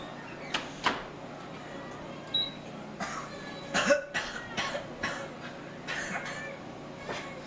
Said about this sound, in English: had a little coughing spell